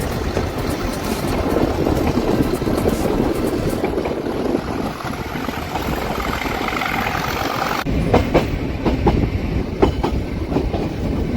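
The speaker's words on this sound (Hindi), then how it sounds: "किट्टी रेलवे स्टेशन से जब ट्रेन हमारी निकली है" Ooty toy train on the Mettupalayam–Ooty line running steadily on the rails, with a continuous loud rumble and rhythmic clickety-clack of wheels heard close from on board.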